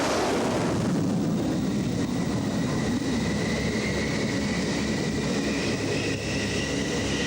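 An early GR model Harrier jump jet descending onto a ship's helipad at sea, a loud, continuous roaring jet thrust with rising whine tones above, dense and close throughout with wind buffeting.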